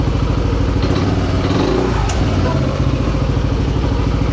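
Yamaha Nmax Techmax 155 motorcycle fitted with an open Vmax Onyx muffler, its engine running loud and close with a steady rumbling idle and slight revving throughout, voices faintly underneath.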